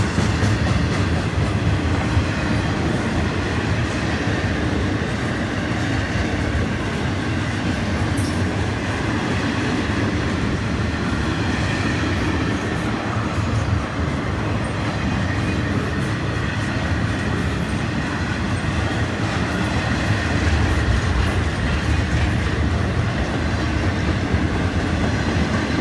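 FEC freight train 101 bound for Miami rolls steadily past at Stuart, Florida, a loud continuous rumble and clatter of container cars on the rails sustained throughout, with no talk.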